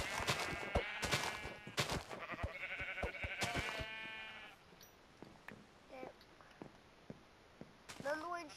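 Sheep bleat in a video game, several wavering, nasal baas in quick succession up close, mixed with people talking, then a quieter stretch of small clicks and a final bleat.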